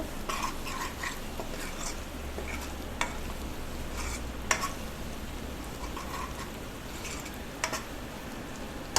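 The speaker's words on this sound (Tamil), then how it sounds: "சேர்த்து நல்லா வதக்கிக்கோங்க." Small onions sautéing in a pan with turmeric and sambar powder for a tomato sambar, a continuous soft sizzle with occasional clicks and scrapes of stirring.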